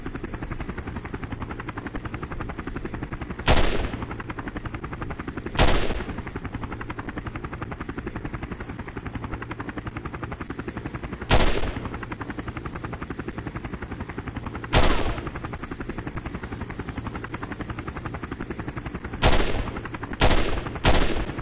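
Video-game rifle shots ring out at shooting-range targets in Call of Duty 4 Modern Warfare on the DS, each a loud single crack at irregular intervals. A steady mechanical drone hums underneath, and the last shots come closer together.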